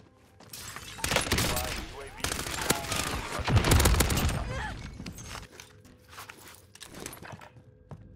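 Warzone gunfire sounds as rapid, dense bursts of shots, some close and loud, others more distant, mixed with footsteps and movement noise and a few scattered single shots trailing off.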